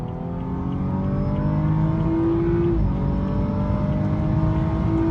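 A warmed-up BMW 435i with N55 engine and stage 1 tune accelerating on a highway, its engine note climbing steadily in pitch under a constant loud drone of road and wind noise, heard from inside the car.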